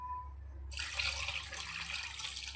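Water poured from a cooking pot for a Kerala-style beef curry starts suddenly as a steady close splashing rush over a low background hum, continuing without talk.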